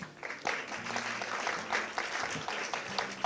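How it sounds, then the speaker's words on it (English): A symposium audience gives a round of applause, a moderate, even patter of many hands, a little distant, that keeps going for about three seconds without speech. "A big round of applause from the audience, please."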